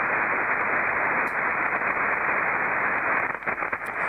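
Amateur radio receiver band noise heard with an X-phase noise canceller, a steady loud hiss of static filling the band, holding constant before dipping briefly near the end.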